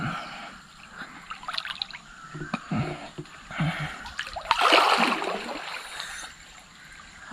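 Stream water splashes and trickles in irregular bursts as someone bathes, close and moderately loud, with a stronger rush of splashing midway through.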